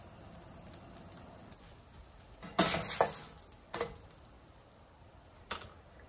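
Buttered flat bread cooking in a pan, a soft steady sizzle with a few louder scraping clatters and taps of the pan, close and quiet, no talk.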